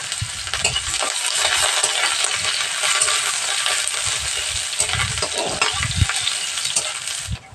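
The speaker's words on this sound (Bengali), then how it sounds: "এবারে দিয়ে দেবো এখানে দুটো শুকনো লঙ্কা আর একটা পেঁয়াজ কুচোনা।" Dry red chillies and chopped onion fry in hot mustard oil in a pan, giving a steady, close sizzle with scattered stirring scrapes and no talking.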